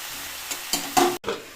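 Vegetables with soya beans being stirred in a pan, with a few scraping strokes and a soft sizzle, then a short pause before stirring resumes; no talking.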